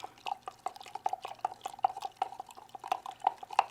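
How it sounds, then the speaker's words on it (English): A stir stick clinking against a cup while mixing vitamin C into hot water: quick, steady, close taps and scrapes in a fast repeating rhythm, with no talk. "I'm going to go ahead and stir that up."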